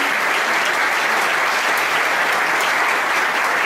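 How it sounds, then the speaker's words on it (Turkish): A large audience applauding steadily, dense clapping that stays loud and even from start to finish. "kocaman alkışlamanızı istiyorum"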